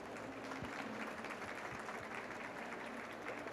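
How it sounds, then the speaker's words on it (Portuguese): An audience claps after a talk at a Web Summit Rio conference session, a dense, steady wash of applause sustained throughout with a few thumps beneath. "uma salva de palmas para ele,"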